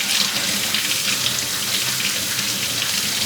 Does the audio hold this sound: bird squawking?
no